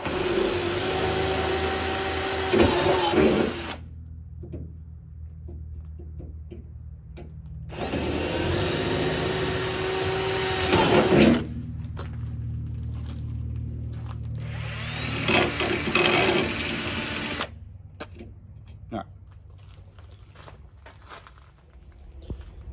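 Power drill boring into a plastic trailer light housing, heard in three long, loud whirring bursts separated by quieter gaps with handling noises.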